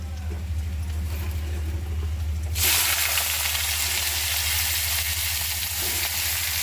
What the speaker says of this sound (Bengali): করলা ভাজি দিয়ে দিলাম।